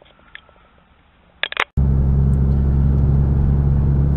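A car's engine surges to a loud, steady full-throttle roar while accelerating uphill in fifth gear at about 50 mph on a highway grade, following a quieter stretch with a few brief knocks inside the cabin.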